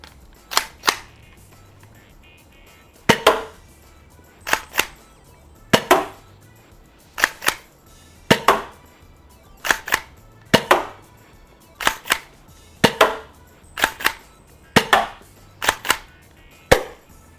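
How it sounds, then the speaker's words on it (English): A springer foam blaster fires Worker Gen 3 darts in a series of sharp, close snaps, each followed by a brief mechanical clack, repeating irregularly over about seventeen seconds with quiet gaps and no speech. "Let's start with the springer and using basic Worker Gen 3 darts for a baseline."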